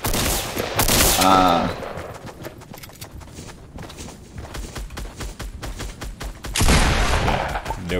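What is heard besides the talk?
shotgun fire in video game Roblox Fortnite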